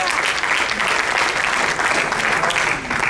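A church congregation claps loudly and steadily at a Spanish-language worship service, a dense, continuous wash of applause that stays even and close for the whole stretch.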